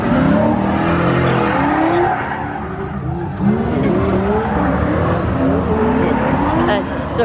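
An 800-horsepower Mazda FC RX7 drift car screams at a drift event, its rotary engine revving loud and close with rising and falling pitch sweeps and tire squeal throughout, while people talk faintly underneath.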